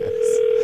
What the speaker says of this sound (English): Dial tone is there.